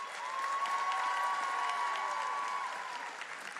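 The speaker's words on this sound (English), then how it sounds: "Please give a round of applause for Congresswoman Lisa Blunt Rochester." An audience at a student debt relief event applauds, a sustained wash of many hands clapping at moderate distance that swells and holds for several seconds before easing off, with a faint steady tone underneath.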